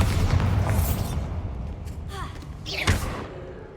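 Bombarda spell explosions from the Hogwarts Legacy video game, heavy low booms and thumps rumbling continuously with a sharper blast near the end, loud and close.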